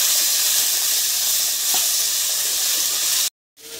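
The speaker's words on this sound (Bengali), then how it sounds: "মশলাটা প্রায় কষানো হয়ে গেছে।" Spice masala with turmeric and salt for a chicken curry fries in oil in a pan, giving a steady, close hiss and sizzle that cuts off abruptly just before the end.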